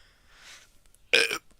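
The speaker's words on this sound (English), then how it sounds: "Sorry, I had to burp." One short, loud, close-up human burp, a guttural rasp lasting about a third of a second, preceded by a faint breathy hiss and otherwise quiet.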